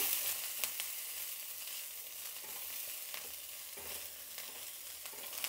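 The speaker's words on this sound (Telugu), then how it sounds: "ఇప్పుడు దీన్ని కొంచెం వేయించుకుందాము. పచ్చిమిర్చి పచ్చి వాసన పోయేదాకా వేయించుకుందాము." Green chilies, ginger and cumin fry together in a pan for an uttapam chutney, giving a soft, steady sizzle broken by occasional light clicks of stirring, faint and close.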